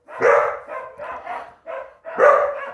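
Dog barking at someone passing in the street, a burst of several close, loud barks in an uneven rhythm.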